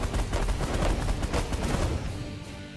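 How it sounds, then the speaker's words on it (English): Rapid continuous minigun fire at ships in the space strategy game The Last Federation, a dense rattling burst that holds steady and then eases slightly toward the end. "It looks like our minigun is going to be the way to go. And we're going to focus fire."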